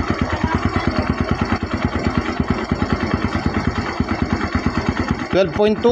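A Kawasaki Barako motorcycle with a low-battery fault, being fitted with a full-wave charging setup, putters with its engine running in a fast, even beat that surges briefly near the end.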